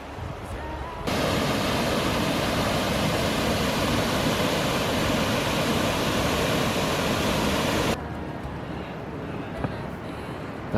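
Brule River flowing along the Superior Hiking Trail, a broad steady rush of water that swells sharply loud for several seconds, then drops back to a quieter roar.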